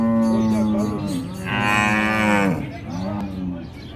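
A buffalo at a rural livestock market lets out a long, loud, drawn-out moo that rises into a strained bellow and then falls away, close by with a faint market murmur behind.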